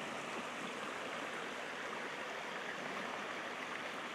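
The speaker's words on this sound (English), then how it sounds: "The Elm River is known as a good brook trout stream." Water of the Elm River, a brook trout stream with a sand and gravel bottom in Michigan's Upper Peninsula, rushes steadily in a dense unbroken hiss, close and constant, with no voices.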